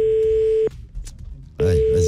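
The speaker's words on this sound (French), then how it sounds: "Ah bah, il marche bien le fax, dis donc." A fax machine's steady high tone on a phone line, loud and close, sounds for about two thirds of a second, breaks off into line noise, then returns under a burst of overlapping voices.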